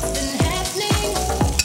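Garlic pieces frying in olive oil in a pan with softened octopus, a steady, loud, close sizzle broken by a few stirring scrapes, with no voices.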